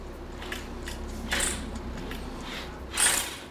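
Nuts come off the roller bracket of a sliding gate with a steady metallic ratcheting. Two brief, brighter scraping bursts stand out from the close, continuous clicking.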